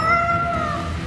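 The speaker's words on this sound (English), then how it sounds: "Cats." A cat meows in the fantasy role-playing video game Tales of Berseria, a single drawn-out call lasting about a second, fairly loud and close over a soft game background with no talk.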